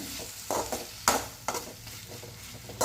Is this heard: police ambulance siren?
no